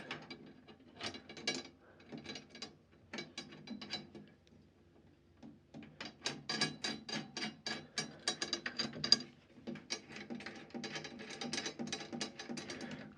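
Tom drum tension rods being turned finger tight during tuning, giving a run of quick ratcheting clicks in bursts, close and fairly loud, with a short pause before a denser stretch.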